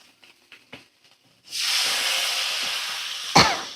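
Water poured into a pan of katla fish frying in a little oil, a sudden loud rushing sizzle that bursts in after a few faint clicks and holds steady, close by, ending with a sharp clunk.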